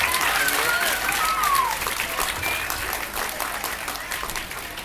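Steady, full applause from an audience at a school and college merit award ceremony, loud at first and easing slightly toward the end.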